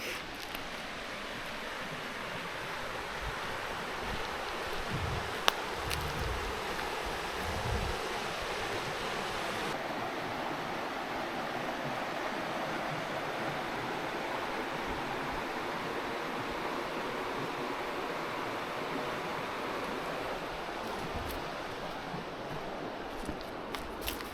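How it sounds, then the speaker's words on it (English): A rushing creek on Vancouver Island gives a steady, soft broadband wash of flowing water, faint and continuous, with a few brief low knocks early on and no talk. "the sound of the birds and the rushing creek"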